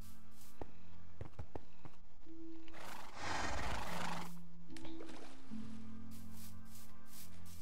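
Horses in the Minecraft video game neigh and whinny several times, fairly faint, amid soft in-game clicks and thuds with no talking.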